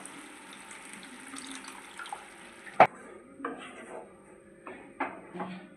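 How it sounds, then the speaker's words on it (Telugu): A small glass of water is poured into a pan of fish curry in a home kitchen, a soft close splash and hiss followed by a sharp clank of the glass and scattered utensil knocks. "ఇందులోకి జస్ట్ ఒక చిన్న గ్లాస్ అంతా వాటర్ తీసుకుంటున్నాను."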